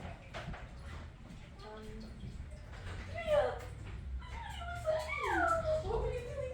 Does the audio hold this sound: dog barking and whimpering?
yes